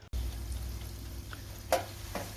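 Food sizzles and crackles in hot oil in a Brock DF 3001 SS stainless steel deep fryer, a steady quiet hiss with a couple of sharper pops.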